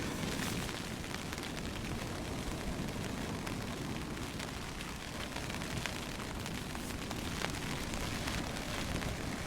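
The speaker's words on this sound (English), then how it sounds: "And now it started raining" Rain falls steadily on a UK beach at Clacton-on-Sea during a fishing match. It makes a dense, continuous hiss and patter with no breaks, mixed with broadband wind-like noise.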